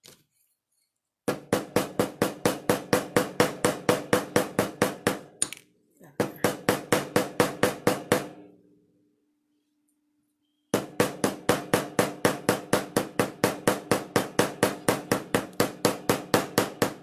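Copper rivets are struck in rapid, even runs of sharp metallic hammer taps, loud and close, in three long bursts separated by short pauses and a stretch of silence.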